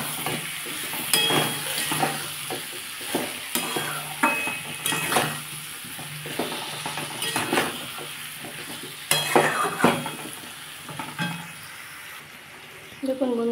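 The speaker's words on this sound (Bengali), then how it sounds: "দিয়ে এটাকে বন্ধুরা ভালো করে কষতে হবে যতক্ষণ না তেল বেরোয়।" Spiced potato and egg curry, seasoned with sugar and salt, is stir-fried in oil in a pan, giving a steady sizzle broken by repeated scraping, clattering strokes of the spoon at close range.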